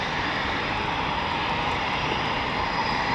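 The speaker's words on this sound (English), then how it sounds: "There is a Typhoon behind me coming in" A Eurofighter Typhoon FGR4 jet comes in, heard as a broad, steady roar of engine noise that holds at moderate level throughout.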